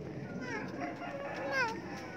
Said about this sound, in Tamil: கோழி கற்றுதா?